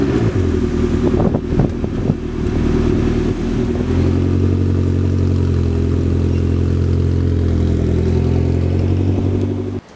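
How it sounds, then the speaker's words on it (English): A 2020 McLaren GT V8 engine burbles through dual stainless steel exhaust tips, a steady close, loud engine drone with a low rumble that holds for nearly ten seconds before cutting off abruptly. "dual stainless steel exhaust tips, which are also available in chrome and issue forth a fantastic sound from that V8 engine"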